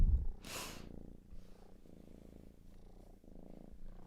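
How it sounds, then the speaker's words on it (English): A cat purrs loudly and close, in rhythmic pulses that follow its breathing, after a brief rustle at the start. "Can you hear her purring?"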